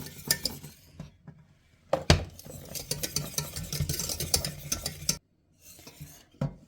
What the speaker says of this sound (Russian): Как только глазурь начнет кипеть, пару раз перемешиваем и выключаем.